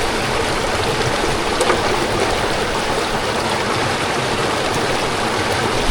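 Water runs steadily through a gold sluice box set up in a creek; a loud, continuous rushing and gurgling wash with no pauses, close by and without voices.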